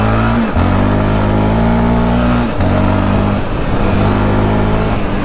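A Yamaha Raptor 700 quad bike engine revving up, loud and close, with the tone climbing in steady pulls and dipping between throttle blips at roughly two-second intervals.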